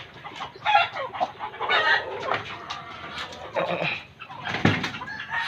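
Fighting cocks kept for breeding on a Filipino farm, roosters clucking and calling repeatedly at close range in a busy, continuous chorus of overlapping bird sounds.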